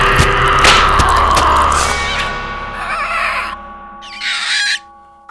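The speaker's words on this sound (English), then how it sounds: "What's with all the birds in here? Oh, they're vultures." Harsh, raspy bird cries attributed to vultures, staged as a sound effect, layered loud and close over a dense noisy backdrop, then thinning into a few separate calls before cutting off; no talking.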